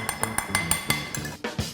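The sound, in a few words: stirring corn fritter mixture in a bowl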